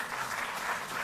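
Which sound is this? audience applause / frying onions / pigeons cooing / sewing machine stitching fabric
audience applause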